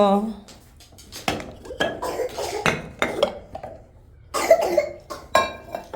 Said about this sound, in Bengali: কি হইলো আবার কাশি বাড়লো